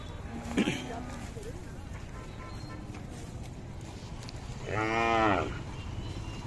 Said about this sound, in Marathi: खाली गाय आहे आता